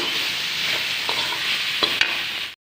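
Potatoes and sour mesta (roselle) leaves fry and sizzle steadily in hot oil, a close, continuous hiss broken by a few soft stirring clinks before it cuts off.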